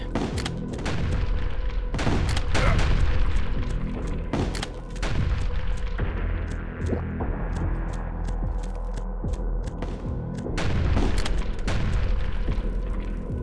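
Heavy booms and rumbling blasts from the video game HROT as a small tank explodes, with deep explosions and crackling gunfire repeating over a low, steady hum.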